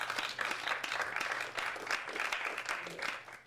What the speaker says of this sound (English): A round of applause for him too, please.